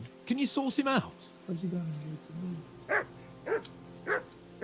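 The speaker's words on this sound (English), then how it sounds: "I assume you can hear that damn dog of yours barking." Dog barking in the medieval role-playing video game Kingdom Come: Deliverance 2, several sharp barks in the second half following a stretch of talking voices, moderately close and clear.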